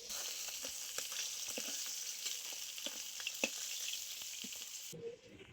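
Fish frying in hot oil in a home kitchen, a steady bright sizzle with small pops and crackles throughout, then cutting off abruptly near the end into quieter stirring noise.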